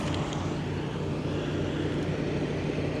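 A truck stop beside an Esso station, crowded with parked trucks, gives off a steady low engine drone and rumble of idling and passing vehicles, constant and without voices.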